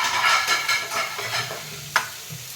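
A pot of vegetable curry with potato, pointed gourd, beans, okra and whole chillies bubbles and sizzles close by, with a spoon stirring through it and a brief clink of the pan near the end.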